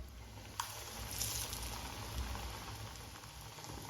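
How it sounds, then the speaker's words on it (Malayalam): Spiced snack fritters deep-frying in hot oil, a faint, continuous bubbling crackle with small pops and a soft hiss. "ഇനി ബാക്കിയുള്ളതും ഇതുപോലെ ഫ്രൈ ചെയ്തെടുക്കട്ടെ"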